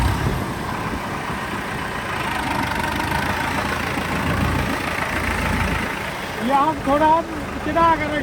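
A tractor engine pulling a suhaga (field leveling plank) runs with a steady low rumble, and a voice speaks over it toward the end.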